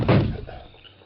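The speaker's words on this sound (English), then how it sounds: "Let me close this door." A door is pushed shut with a single dull thud at the start, followed by a short fading rumble in a quiet room.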